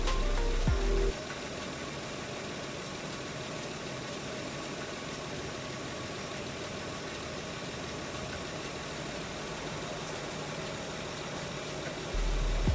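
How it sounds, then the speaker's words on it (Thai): A car engine idles smoothly and steadily at close range, a low even hum with a faint vibration and no voices. "เครื่องยนต์เดินนิ่งมากๆครับ ไปฟังเสียงเครื่องกันดูครับ"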